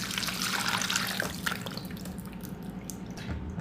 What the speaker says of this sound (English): I have my strainer over a bowl. I'm gonna pour the milk that I have infused in here.